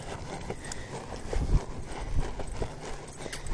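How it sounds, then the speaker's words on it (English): Hooves of a trotting horse under a rider beat in a steady, fairly quick rhythm, moderately close, against light background noise. "I'm gonna pick him up and ask him to trot."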